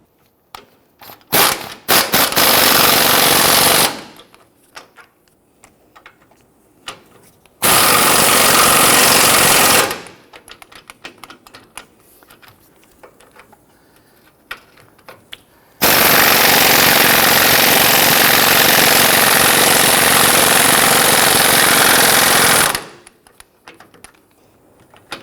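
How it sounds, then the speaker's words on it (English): A power tool tightens sway bar bushing bolts on a Nissan Frontier, coming in loud, close rattling bursts of a few seconds each, with the longest near the end and quiet gaps of small handling noises between them. "Now let's go ahead and tighten these down evenly."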